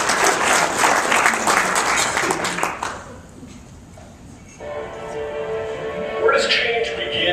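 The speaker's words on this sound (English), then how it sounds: "Feel free to applaud while I'm looking for this if you like." An audience at an appreciation breakfast claps loudly and densely, then breaks off abruptly after about three seconds, leaving quiet room tone and faint tones before a brief swell of noise returns.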